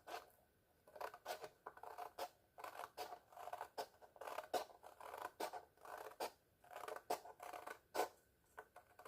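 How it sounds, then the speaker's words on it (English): Quiet, repeated snips and crisp cutting strokes, like scissors working through paper, in an irregular rhythm close by. "Just going to take your scissors and cut out the viewfinder."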